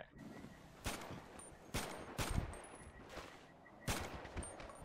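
Scattered gunshots in a GTA V zombie-world game, a handful of sharp separate cracks spaced a second or so apart over a low background, fairly faint overall.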